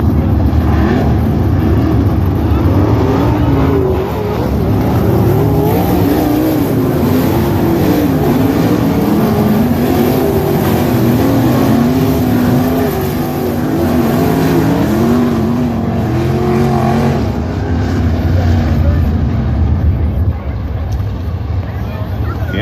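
Outlaw sprint cars warming up behind a pace truck on a speedway track for a heat race, their engines roaring loud and continuous with rising and falling revs as the pack circulates.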